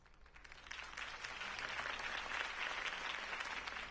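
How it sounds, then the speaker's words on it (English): Steady applause from a crowd in the video game Batman: The Telltale Series, a dense patter of many clapping hands that swells slightly and holds for several seconds. "could have heard that applause"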